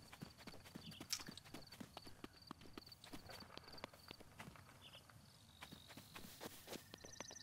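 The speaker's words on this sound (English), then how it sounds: "I just heard something that sounded like a horse." Horse hooves clip-clop in a steady walking rhythm in The Legend of Zelda: Breath of the Wild, fairly faint and close, with light ambient game sounds around them.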